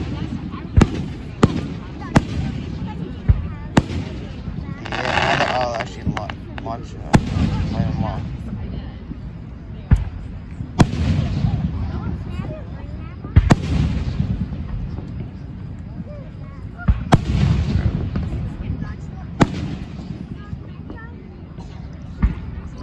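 Big and small loud Fourth of July fireworks burst again and again, sharp bangs and crackles scattered across the sky at varying distances, with people talking and reacting throughout.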